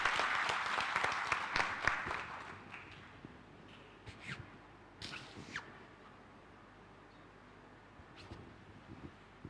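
Conference attendees applaud after a research presentation, a dense burst of clapping at the start that thins into a few scattered claps and fades to quiet room tone.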